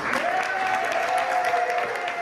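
A crowd on the sidelines of a political event claps steadily and loudly, a dense continuous wash of applause with no voices over it.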